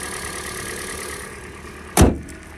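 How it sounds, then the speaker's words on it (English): A 2015 Kia Forte LX four-cylinder engine idles with a steady low hum and faint whine, ending in a sudden loud thump like a door or hood closing, with no voices. "And there's your four-cylinder engine running well."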